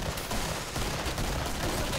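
Gunfire in the zombie shooter Killing Floor, a dense burst of loud, close shots that fills the whole short stretch with harsh cracks.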